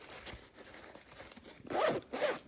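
A zipper on a Vertx sling pack dump pouch is pulled in two quick, close zips near the end, after a stretch of faint handling rustle, with no talking.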